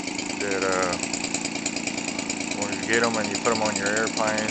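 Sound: Weedeater Featherlite 17cc engine idling, converted for RC aircraft

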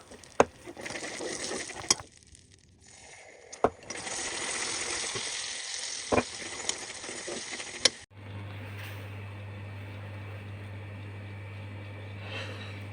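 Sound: caramelizing sugar with butter and cream in a pan

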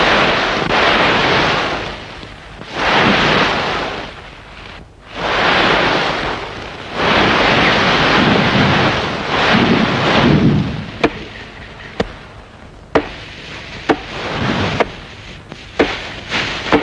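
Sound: raging storm wind

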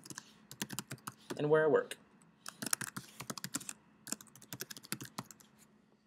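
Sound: typing on a computer keyboard

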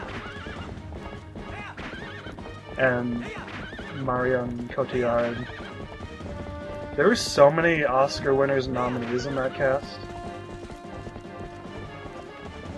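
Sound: horse galloping and neighing in Zelda Twilight Princess video game

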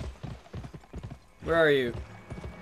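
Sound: horse hooves galloping in video game Gun

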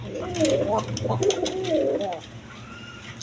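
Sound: pigeons cooing

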